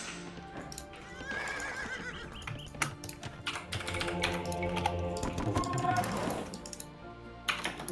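Horses neigh and whinny in an Age of Empires match, with clip-clop hooves and a busy mix of game sounds and dense rapid clicks running throughout.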